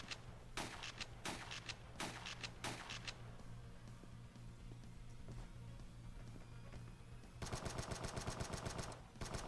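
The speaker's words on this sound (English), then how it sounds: "Shoot into the ground while in the air with the shotgun." Bursts of shotgun and rapid gunfire from a video game shooter, a few loud separate blasts early, then a steady hum, then a fast, dense volley of shots near the end.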